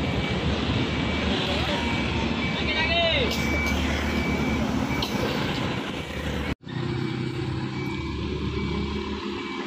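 A Mercedes-Benz 1623 front-engine bus idles and pulls out of a parking area with a loud, steady diesel drone, and a brief hiss near the middle. A person speaks over the engine.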